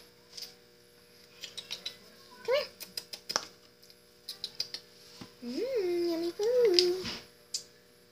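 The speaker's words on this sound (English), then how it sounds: "That's my cat." A pet cat meows twice in a kitchen, a short rising cry followed by a longer wavering one, fairly close, with scattered clicks and faint clatter around it.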